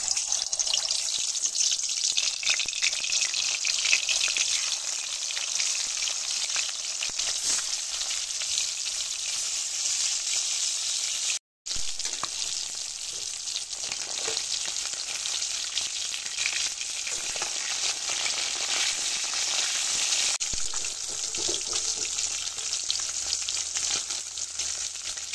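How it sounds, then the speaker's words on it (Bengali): Shol fish fries in very hot oil in a wok, a loud, continuous hissing sizzle with fine crackling that runs steadily throughout, briefly cut by a short silent gap midway. "কড়ার মধ্যে তেল দিয়েছি, তেলটা খুব ভালো করে গরম হয়ে গেছে। এবার আমি মাছগুলো ভেজে নেব।"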